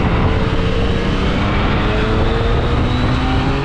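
Yamaha FJ09 motorcycle on the move, a loud, continuous engine drone mixed with heavy wind roar, steady and close throughout with no voices.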